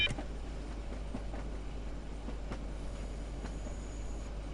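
A train runs in the Train Sim World 2 simulator, a steady low rumble with faint periodic clicks of wheels on rail joints, heard alone without talk.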